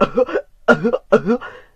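A person's voice imitates coughing after smoking a joint, with three loud, close, rasping cough bursts separated by short pauses.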